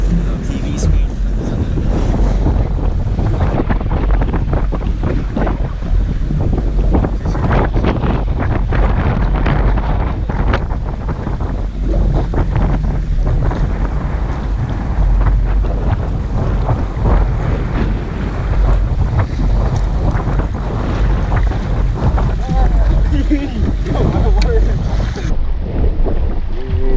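Waves slap and splash against a wet fishing boat on a rough, windy day, a loud continuous wash of water and heavy wind buffeting the microphone throughout, with no clear talk.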